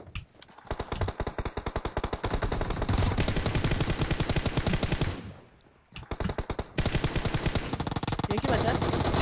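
Rapid automatic gunfire from a squad firecight in a battle royale shooter game, dense bursts of shots running nearly continuously with a brief lull partway through, with voices talking over the action.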